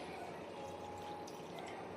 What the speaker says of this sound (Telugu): ఒక చిన్న గ్లాస్కి వాటర్ పోస్తున్నాను